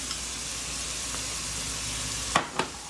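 Red pepper and onions sizzle in two pots of beef-and-bean chili: a steady, dense frying hiss throughout, broken near the end by two sharp utensil clanks against the pot.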